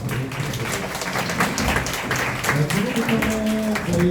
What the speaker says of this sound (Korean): 저희 그 좋은 강의 해주신 유한구 선생님께 다시 한번 감사의 박수를